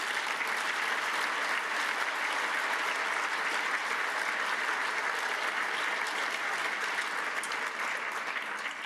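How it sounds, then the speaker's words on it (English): Audience at a sports forum gives a round of applause: continuous, even clapping from a large crowd, sustained at steady volume with no talking. "One other round of applause for them,"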